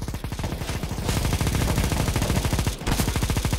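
Rapid automatic gunfire in a competitive-match shooter video game, loud and close, a dense stream of shots that cuts out for a split second before the burst resumes.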